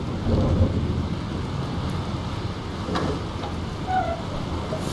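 A thunderstorm in the game Life is Strange rumbles with low thunder over steady rain and wind, heard alone at a moderate distance.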